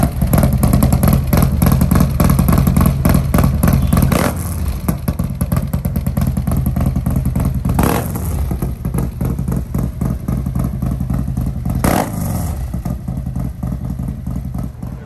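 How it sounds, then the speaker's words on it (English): Loud Harley 131 motorcycle fitted with a D&D billet cat exhaust, revving hard in a steady deep roar with three sharp throttle blips standing out, close to the microphone and with no talk. "This is what a D&D exhaust sounds like with some power put to it"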